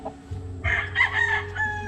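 A gamefowl stag gives a single crow, a loud, close cock-a-doodle-doo lasting about a second over faint background noise.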